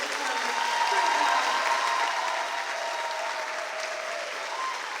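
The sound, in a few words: audience applause for the drama club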